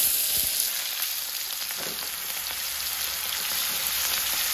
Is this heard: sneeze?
no